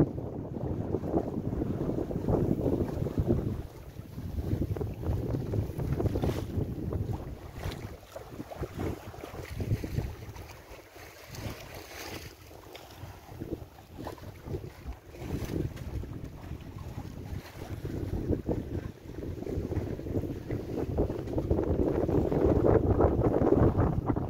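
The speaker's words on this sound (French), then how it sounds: "il y a du entre 13 et 14 nœuds de vent" Steady wind of 13 to 14 knots rushing across the microphone while under sail on a Sun Odyssey 35 sailboat, with water washing and hull noise swelling louder at the start and end.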